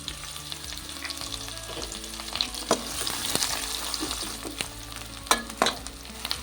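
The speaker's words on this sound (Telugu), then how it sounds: "ఉల్లిపాయ బాగా ఎరగొచ్చేంత వరకు ఫ్రై చేసుకుందాం." Chopped onions fry in oil with cumin, curry leaves and green chilies, making a steady sizzle broken by occasional stirring scrapes and taps, close by with no voices.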